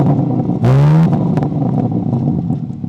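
A G82 BMW M4 in its sportiest M2 mode gives one loud, sharp rev that climbs quickly and drops off after about half a second, then settles into a rumbling idle with small clatters, close to the car.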